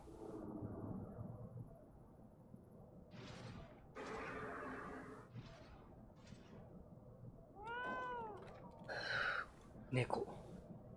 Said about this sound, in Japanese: 猫。